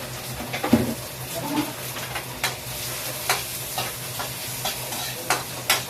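Onion and garlic sizzle and fry in a hot pan, a close, steady crackle broken by repeated stirring scrapes and light clinks of a utensil against the pan.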